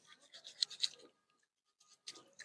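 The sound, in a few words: scrubbing harvested turmeric with a sponge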